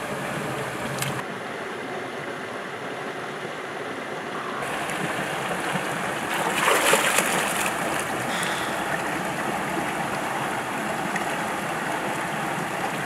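Cool spring water from the Florida aquifer wells up from beneath rock and pours into the Suwannee River, making a continuous loud rush of flowing water that swells briefly in the middle, with no voices.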